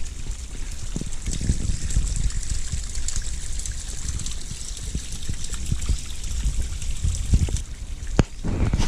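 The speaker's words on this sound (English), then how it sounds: "The sound of running water is really peaceful when you're out and about." Steady trickling and splashing of running water from a small waterfall along an escarpment bushwalk, continuous and close, with faint scattered knocks and a brief thud near the end.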